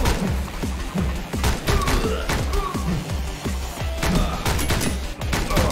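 Rapid gunfire rattles through the video game Speed Limit, with dense bursts and sharp shots crowding a busy, loud action mix, and faint voices slipping in beneath.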